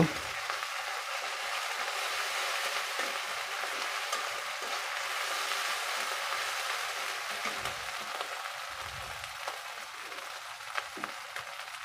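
Chicken with garam masala paste being stirred in a hot pan, a steady sizzle and frying crackle with scraping spoon strokes, close and continuous.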